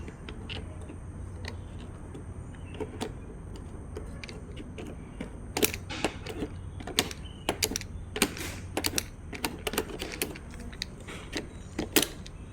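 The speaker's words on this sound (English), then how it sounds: "Using a flathead screwdriver, carefully remove the indicator switch." A flathead screwdriver prying the indicator switch out of a scooter makes small plastic clicks and ticks, sparse at first and then denser and sharper in quick irregular bursts over a quiet hum.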